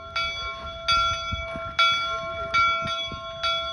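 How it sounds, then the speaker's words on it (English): A locomotive warning bell clangs steadily at Promontory Summit, Golden Spike, five or six ringing strikes with lingering metallic tones over low background rumble. "The bells are a warning device, letting folks back then and today know to take care of the track."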